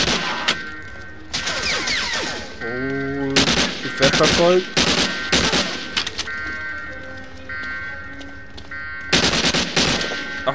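Rapid bursts of submachine gun fire in the WWII shooter Medal of Honor Allied Assault, loud and close, separated by short pauses, with clangs and a voice talking between volleys.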